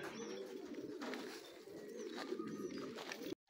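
Racing pigeons coo at their loft, a steady low murmuring chorus with soft overlapping calls and a few faint chirps, fairly quiet with no talking.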